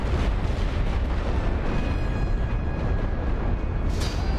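Light artillery shells explode in dense barrages during a World War I battle in The Great War: Western Front, a continuous loud rumble of overlapping booms with no clear gaps.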